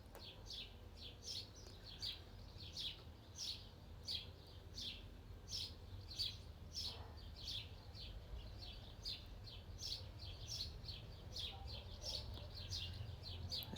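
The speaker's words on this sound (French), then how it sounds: "Je vous laisse écouter les petits oiseaux." Small birds chirp in quick, regular bursts that repeat steadily through the whole stretch. The calls are fairly faint and sit over a low background hum.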